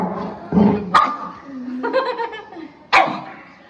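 A Rottweiler and a pug play together, giving a low growl followed by sharp, close barks and yips in short bursts, with a brief whimper between them.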